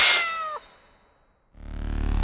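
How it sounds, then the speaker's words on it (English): A cartoon cat villainess lets out a loud, close, rising-and-falling meow that breaks off, followed by a short silence and then a low rumbling, purr-like growl. "I had been attacked by the cat villainess Melora"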